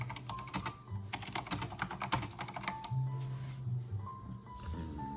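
Someone types on a computer keyboard at close range, producing a quick, irregular patter of key clicks that thins toward the end. No one speaks.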